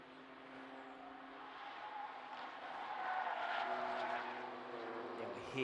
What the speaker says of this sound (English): Hear the tyre squeal